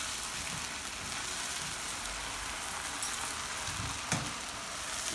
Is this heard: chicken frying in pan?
yes